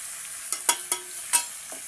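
Spices sizzling in hot oil in a pan, with a few sharp scraping strokes of a spoon stirring them, close and clear against a steady frying hiss.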